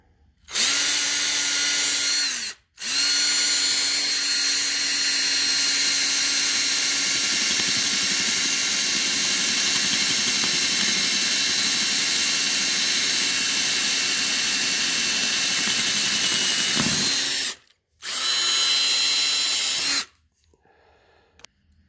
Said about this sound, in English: So now I'm gonna get my drill.